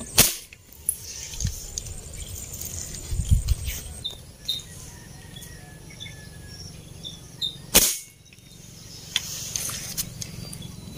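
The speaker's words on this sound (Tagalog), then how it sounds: "Sama ng putok ng baril ko." Two sharp gun cracks while hunting snakehead fish outdoors, one at the start and one later, standing out against a steady background of insect chirping.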